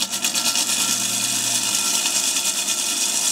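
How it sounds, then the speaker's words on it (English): A kitchen blender runs at low speed while blending polenta with water, giving a steady whirring motor hum with a faint pulsing rhythm, close by and alone without speech. "put your blender at low speed"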